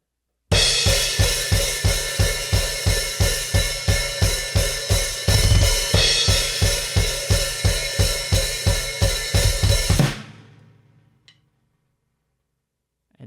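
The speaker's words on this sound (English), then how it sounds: "fast 2 kicks with a snare and the open hi-hat, and you quickly close it." A drum kit plays a tight, fast repeating pattern of doubled kicks, a snare, and an open hi-hat snapped shut, close and loud for about ten seconds before the last hit rings out and decays.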